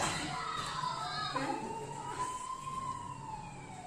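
An ambulance siren wails at a distance, its pitch sliding up and down over steady street noise and faint voices.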